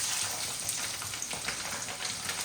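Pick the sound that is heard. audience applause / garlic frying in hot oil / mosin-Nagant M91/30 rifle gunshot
garlic frying in hot oil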